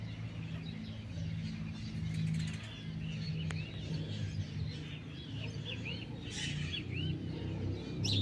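Maracanã parakeets returning to fruiting pitanga trees, faint chirps and wing flutters over a steady low background hum, distant and quiet.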